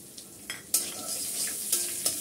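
Chopped onion and cumin seeds frying in oil while being stirred in a pan, a continuous close sizzle with several crisp scraping strokes of a spatula spaced through it.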